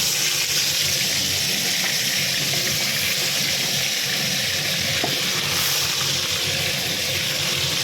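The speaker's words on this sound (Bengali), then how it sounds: "আলুগুলো এই বাটারের মধ্যে একটু ভেজে নেব।" Potatoes frying in hot oil and butter with turmeric, a steady dense sizzle and crackle that holds unbroken and fairly loud throughout, with no voices.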